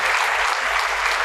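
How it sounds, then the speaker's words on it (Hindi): A church congregation claps loudly and steadily at a worship service, dense applause filling the room with no voices heard. "चलो यीशु को जोर से ताली की भेंट चढ़ाएंगे."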